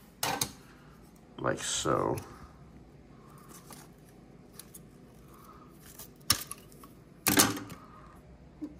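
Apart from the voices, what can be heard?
cutting twigs off to hold moth cocoons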